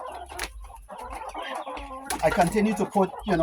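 Hens cluck and chatter close by in a pen on an organic farm, with overlapping soft calls and a busier burst toward the end.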